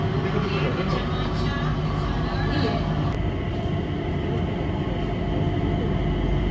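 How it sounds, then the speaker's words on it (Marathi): A transit train at Singapore's airport rolls along with a steady, loud rumble and hiss throughout, continuous and close around the riders, with a brief shift in tone midway. "आता आम्ही चाललोय त्या ट्रेननं"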